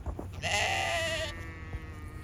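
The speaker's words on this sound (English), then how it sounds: "We're about to pick up the big kid goats." Goats bleat loudly and close by, one long wavering harmonic cry followed by softer calls, over a low rumbling background such as a vehicle engine.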